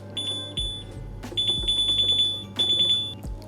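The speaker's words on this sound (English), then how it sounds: "I don't know if that beeping is going to get annoying or not." An Ooni Volt 12 indoor electric pizza oven beeps in three sustained bursts while heating to full, shrill and steady, with a low hum and a few soft clunks underneath.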